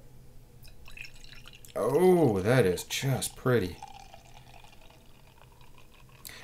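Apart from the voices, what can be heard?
lambic beer being poured into a glass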